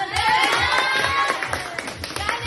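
Audience applause rings out in a karaoke bar in Manila, a quick patter of hand claps mixed into loud music and singing throughout.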